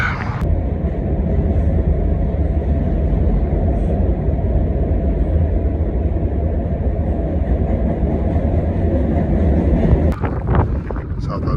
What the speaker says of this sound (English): Train in southern Arizona. It's gonna take me out to California.